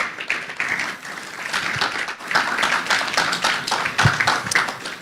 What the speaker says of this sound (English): let's have you put a round of applause for him while he comes up to the stage.